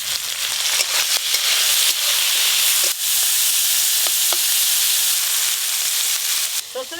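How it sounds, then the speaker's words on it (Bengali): Prawns fry in a hot pan with salt and turmeric powder, a loud, steady, close sizzle and hiss that fills the whole stretch, with a few faint clinks and a brief bit of voice near the end. "চিংড়ি মাছগুলো ভেজে নেব"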